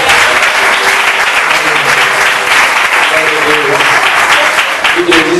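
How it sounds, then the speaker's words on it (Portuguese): Congregation at a Portuguese-language church sermon applauds in praise, loud and sustained dense clapping throughout, with voices and cheering mixed in beneath it. "Dá uma salva de palmas ao Senhor."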